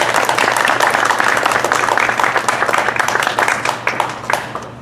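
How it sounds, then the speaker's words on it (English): Lively applause from a crowd at a public meeting in Monterey and Santa Cruz, California, loud and dense with sharp individual claps, gradually thinning and fading toward the end. "One more round of applause for Mr. Ramos, please."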